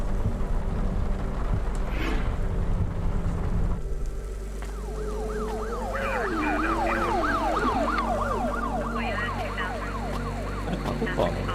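Police car siren in the futuristic city game Cloudpunk, a wailing rising-and-falling tone that starts about midway and repeats steadily over a constant low engine-like rumble, fairly prominent in the mix.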